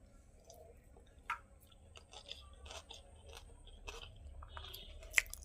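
Close, soft chewing of rice cooked with fried neem leaves, with faint scattered crunchy bites and small mouth sounds over a quiet background, and no talking.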